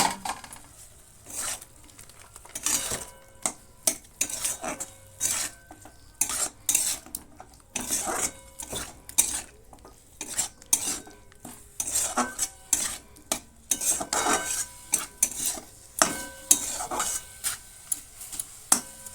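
A spoon scrapes and clinks repeatedly against a pot while chicken and turmeric are mixed, the strokes coming in irregular close bursts with metallic knocks, no voices present.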